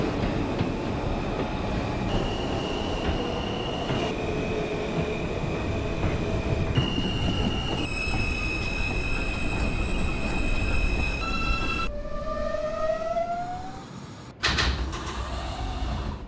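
An R160 M subway train in the OpenBVE simulator running along the line toward Bay Parkway, with steady loud rumble, whining motor tones that step up in pitch, wheel squeal, then a brief drop and renewed running noise.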